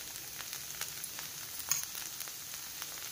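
Rava dosa sizzles in oil on a pan, producing a faint, even frying hiss with small soft pops, close by and without any talking.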